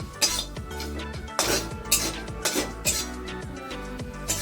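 Cumin seeds dry-roasting in a wok, heard as repeated metallic scrapes and clinks of a spatula against the pan, near and irregular, with no talking.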